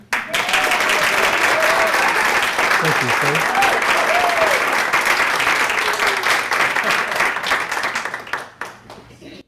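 A room of listeners gives a warm round of applause welcoming a first-time speaker, loud and sustained for several seconds with a few voices calling out over it, then dying away as someone speaks briefly.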